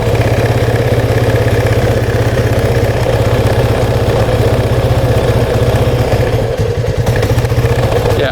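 An ATV engine idles steadily just after starting on choke, a loud, close, continuous mechanical chug with a faint clatter, holding an even rhythm throughout with a slight dip near the end.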